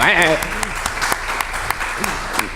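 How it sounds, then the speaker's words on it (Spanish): A burst of applause with a voice over it at the start at a retro gaming event, then scattered claps and shouts as the clapping thins out. "Un aplauso para el Rafa de Rejugando."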